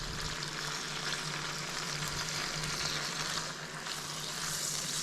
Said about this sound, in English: So I'm going to stir.